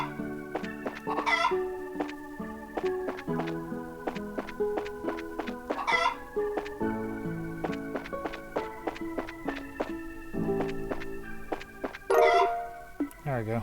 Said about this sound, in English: It's hard to catch these chickens with all these people hanging out here.